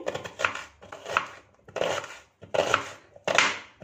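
Knife slicing through half of a medium-sized onion on a board, five crisp, evenly spaced cuts, close and clear with no talking.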